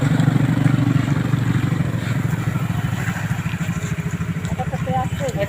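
A motorcycle engine labors and putters steadily up a slippery slope, loud and close, with rough, uneven revving as it struggles, and voices talking over it.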